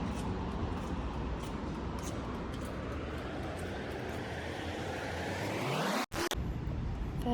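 A four-wheel drive car drives along with a steady, close engine and road rumble that swells toward the end, then cuts abruptly before resuming briefly.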